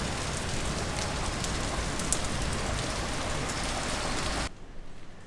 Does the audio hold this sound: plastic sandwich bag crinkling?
no